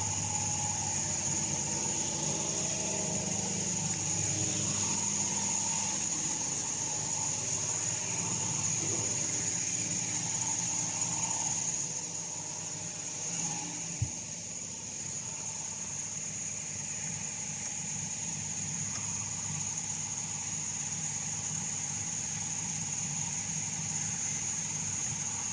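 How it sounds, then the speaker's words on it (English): A Mercedes-Benz car engine runs steadily during an automatic transmission oil change on a 7G-Tronic gearbox, giving a low, even hum with a faint high whine and a brief dip in level midway. "I will go into the car, I will start the engine"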